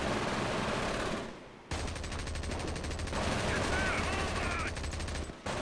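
Sustained machine-gun fire from a Company of Heroes battle roars continuously and loudly with dense rapid bursts, briefly dipping before resuming, amid wider combat noise.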